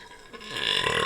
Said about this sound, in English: First burp on the new mics, baby.